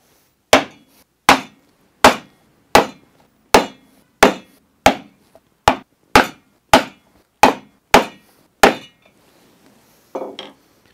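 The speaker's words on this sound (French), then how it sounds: "je vais mettre un petit coup de ciseau sur le sillon creusé par le tranchet" Sharp wooden mallet strikes on a wood chisel, about a dozen evenly spaced taps at a steady rhythm, close and clear, then a softer scrape at the end.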